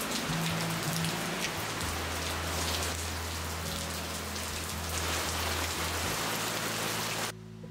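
Steady rain pours down on surfaces during a weekend getaway near Mumbai, a dense constant hiss that stays loud throughout with a low rumble underneath, then cuts off sharply near the end.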